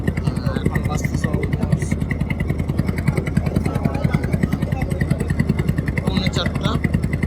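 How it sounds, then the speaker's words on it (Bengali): A motor boat's engine runs steadily nearby, with a rapid pulsing chug that continues unbroken under occasional voices, the throb even and loud from start to finish. "অবশেষে আমাদের বোট চালু হয়েছে"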